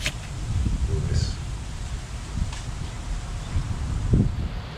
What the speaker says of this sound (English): Still kind of windy here.